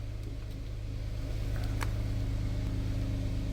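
A Kia Ray light car idles during an engine and transmission inspection, giving a steady, loud low hum with a couple of faint clicks, alone.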